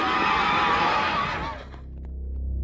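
A horse whinnies loudly and close for about a second and a half, a bright wavering call that breaks off into low rumbling background noise.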